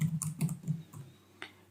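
Quick keystrokes on a computer keyboard while a spreadsheet formula is entered, a short burst of four or five close clicks and then a final tap after a pause.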